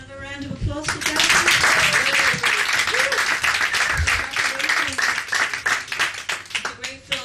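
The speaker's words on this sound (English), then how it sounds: "Can we give another round of applause for Joe?" A cinema audience at a film screening in Margate claps for a filmmaker, a dense burst of applause that holds loud for several seconds, with voices and cheers mixed in, then eases slightly toward the end.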